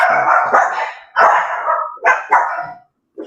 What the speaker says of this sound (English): Oh, the dogs are home.